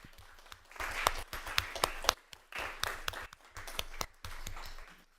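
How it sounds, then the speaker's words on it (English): Applause from a small audience at a city council meeting, uneven bursts of close hand clapping in several waves with brief pauses between. "Let's give them a round of applause."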